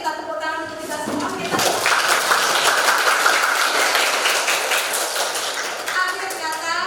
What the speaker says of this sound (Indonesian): ayo kita tepuk tangan untuk kita semua.